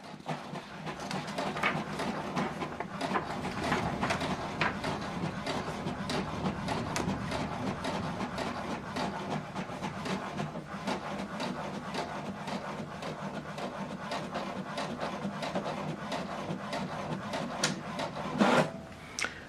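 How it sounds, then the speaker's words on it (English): An HP Deskjet 2820e inkjet printer runs a single-sided print job with a steady mechanical whir and rapid rhythmic clicking and rasping, then ends in a brief louder clunk near the finish. "we're going to print this document one page instead of double-sided"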